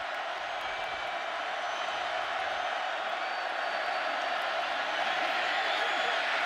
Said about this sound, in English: some crowd noise to deal with